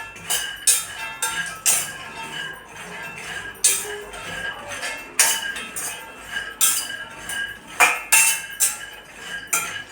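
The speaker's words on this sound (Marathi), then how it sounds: "बारीक गॅसवर आपल्याला पाच दहा मिनटं आपल्याला छान भाजून घ्यायचं आहे" Peanuts are roasted in a pan over a low gas flame. A utensil clinks and scrapes against the metal in irregular, sharp, close taps while stirring, with quiet gaps between and no talking.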